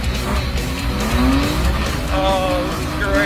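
A BMW E36 is driven hard, engine revving and tires squealing loudly in rising and falling tones, with faint voices underneath.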